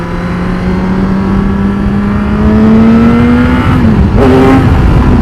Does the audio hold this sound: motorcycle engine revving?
yes